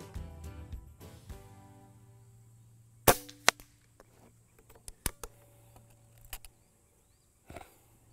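A Benjamin Marauder .22 air pistol fires H&N Field Target Trophy Power pellets at a 60-yard target, giving several sharp, close cracks spaced seconds apart, with fainter clicks between them.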